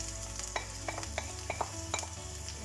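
A spoon scrapes and knocks through onions, peppers, ginger paste, garlic and coriander stalks in a pan, several quiet distinct clicks spaced about half a second apart over a soft low sizzle.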